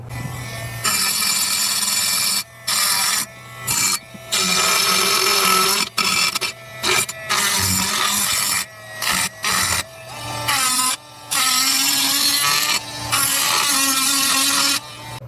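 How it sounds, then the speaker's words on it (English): A Dremel rotary tool deburrs a freshly drilled hole in metal, whining and grinding in repeated short bursts with brief pauses between passes, close and loud. "Alright, so I'm going to bust out the little Dremel here."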